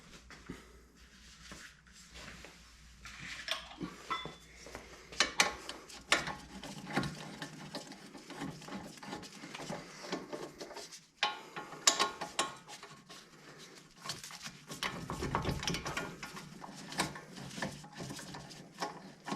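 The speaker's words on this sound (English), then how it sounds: "These are these 10 millimeter Allens. I've got to get a wrench for that." A ratchet wrench turns 10 mm Allen bolts on the front strut of a Porsche 911 996, giving repeated close clicking ratchet strokes and metallic handling noises over a long stretch with no talk.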